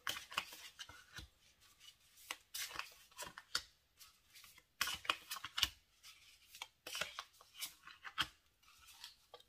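Tarot cards drawn from a deck one by one give soft papery slides, flicks and light taps in irregular clusters. The sounds are close but quiet, with no talking.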